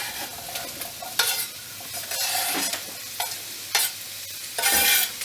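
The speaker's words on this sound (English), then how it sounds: "you're going to add in your onion, celery and garlic" Chopped onion, celery and garlic sizzling in a hot pan for chilli con carne, with a steady frying hiss and several louder scraping bursts as a utensil stirs through the vegetables.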